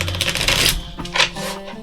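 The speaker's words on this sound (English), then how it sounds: "Just going to give them a quick shuffle here." A deck of tarot cards is shuffled by hand, giving a quick run of dense papery riffles and soft slaps close up.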